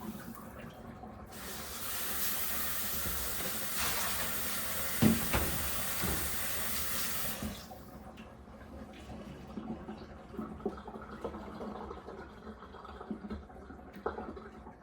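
Warm water running from a kitchen tap into a sink while a cheese grater is rinsed, a steady hiss for several seconds with light clinks, then the flow cuts off, leaving faint dripping and handling sounds.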